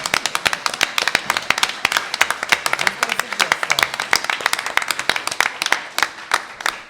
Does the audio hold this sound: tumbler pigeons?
no